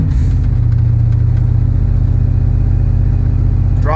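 A 1989 GMC Sierra SLE C3500 dually pickup with a 502 cubic-inch V8 rumbles steadily while driving on dry roads, its deep low engine drone loud and continuous throughout, rising slightly in pitch near the end.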